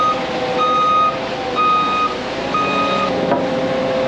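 A large concrete truck reverses, its backup alarm sounding four loud, evenly spaced beeps about a second apart over a steady diesel engine rumble.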